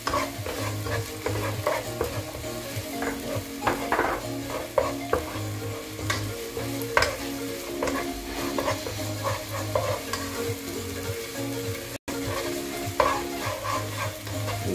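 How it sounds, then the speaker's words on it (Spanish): Finely chopped small onion and garlic fry in a drop of oil, a steady close sizzle with frequent stirring scrapes throughout. "La gotita de aceite que uso es solo para freírle el ajo y la cebolla."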